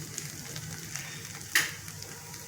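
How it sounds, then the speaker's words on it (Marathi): Spice masala roasting in oil in a wok (kadhai), cooked until the oil separates. It gives a steady soft sizzle and crackle with one sharper spatter partway through, close by, with no talking. "हा मसाल्याचा तेल सुटेपर्यंत आपण भाजू"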